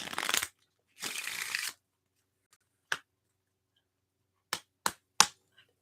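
Tarot cards get two quick, close shuffling bursts in a row, followed after a pause by a few sharp, isolated taps of cards being handled or set down.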